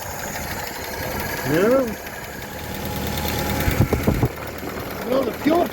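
A car engine, newly running after sitting 28 years, idles with a steady low rumble and some knocking, while someone speaks briefly over it.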